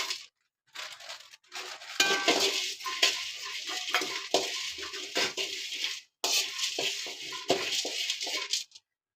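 Cinnamon dry-roasts in a pan, stirred with a metal utensil that scrapes and clinks against the pan in bursts separated by short pauses. The sound is close and moderately loud, with no talking.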